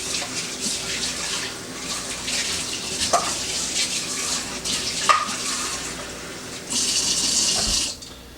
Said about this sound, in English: I'm gonna fill this up with water and see if any water leaks out.